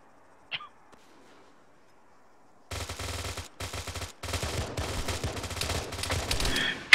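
Live-fire gunshots in a squad training exercise: after a quiet start with a faint click, dense rapid bursts of automatic fire begin, loud and close, with short gaps between volleys and a sharp final crack.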